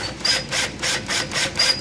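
A power drill bores a hole for a threaded insert in a Sit Means Sit hydrant, with several loud rhythmic bursts of whirring and grinding as the bit cuts in and eases back, close to the listener.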